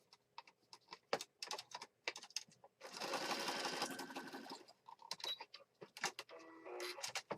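Sewing machine stitching through paper for a handmade junk journal, with a steady whirring run of about two seconds between scattered short clicks and taps of handling, fairly close.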